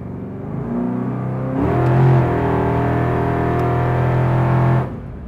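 A 750-horsepower 1965 Dodge Coronet idles with a deep rumble, then is given partial throttle, its engine climbing to a louder, steady drone for a few seconds before dropping back to idle.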